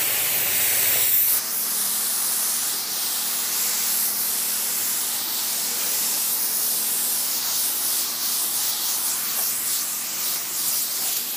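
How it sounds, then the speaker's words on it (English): A spray gun lays a medium-to-wet coat of automotive paint onto a car in extreme heat, producing a loud, steady, continuous hiss that runs uninterrupted after a brief opening burst, with no talking. "We'll have a consistent distance and a consistent speed, about 4 to 5 inches away is the way I like to spray."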